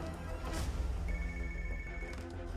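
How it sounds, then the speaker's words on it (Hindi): An office telephone rings in a tense South Indian crime drama, a repeated electronic trill heard faintly over a low background hum, with no one speaking. "सोफिया, तुम ALX ऑफिस को फोन करो, जरा उनसे इंक्वायरी करना।"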